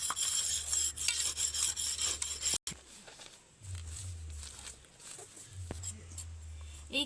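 Homemade abir colour powder being rubbed between the hands makes a dry, raspy scraping at close range, with a few breaks, while a voice speaks softly now and then.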